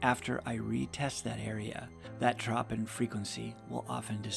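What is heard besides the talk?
No distinct noise like a dog, phone or traffic.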